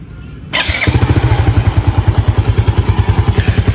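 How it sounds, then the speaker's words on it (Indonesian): A rebuilt Yamaha Jupiter Z1 motorcycle engine, fitted with an original crankshaft and NPP cylinder block set, cranks and fires after a moment of quiet. It then settles into a loud, close, evenly pulsing idle. "sekarang kita akan cek sound untuk mesin dari Jupiter Z1 saya ini"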